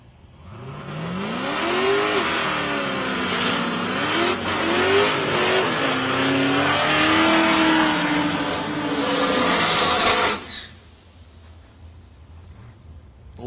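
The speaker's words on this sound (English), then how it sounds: "nearly a half track, or at least a little over a quarter track burnout there for Salim Rashid" A race car performs a long, loud tyre burnout at the Ken Scroop Memorial 2021 event, engine revving and wavering in pitch over screeching rubber for about ten seconds before cutting off abruptly.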